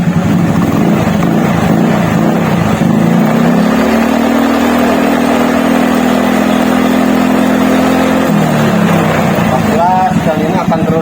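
A carbureted Honda Beat scooter engine idles, then is held at full throttle for several seconds before dropping back. The revving is loud and close and runs under steady background noise.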